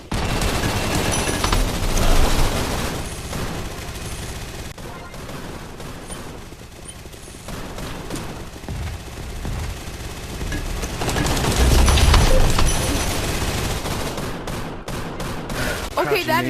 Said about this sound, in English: I mean, I got a minigun.